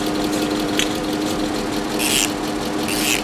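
A Porsche engine idles steadily and up close with a constant low rumble, warming up during fresh service on a car pulled out for the first time, with brief hissy bursts on top.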